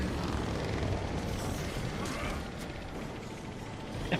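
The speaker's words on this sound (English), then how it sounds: "we have to get the helicopter down low enough so that we can huck things into the propeller" Helicopter boss in the Dead Rising 2 video game, a dense steady rotor and engine roar filling the whole stretch with a broad rumbling wash, loud and continuous without any talk.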